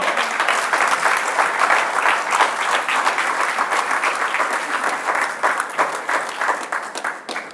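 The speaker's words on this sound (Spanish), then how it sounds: "Dale un aplauso a Jehová fuerte." A church congregation claps loudly and continuously at a Spanish-language service, forming a dense, sustained wash of applause with no talking over it.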